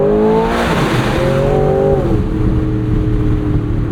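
A 670hp V8 engine in a 2026 Aston Martin Vantage S roadster revs and accelerates hard, its pitch climbing and shifting through gears over rushing wind noise.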